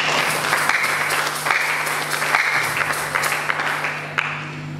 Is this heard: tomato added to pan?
no